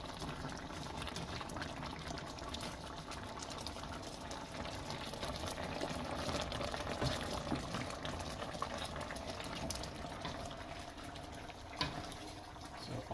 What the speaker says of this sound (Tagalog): So, pakuluan lang natin.